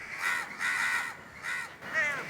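Crows caw repeatedly in a string of four harsh, drawn-out calls, close and loud with short pauses between, no voices present.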